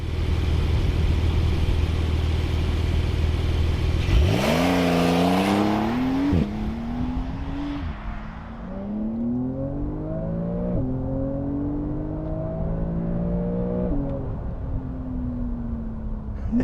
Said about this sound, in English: welcome to the Porsche 992 Carrera 4S, and what a noise it makes.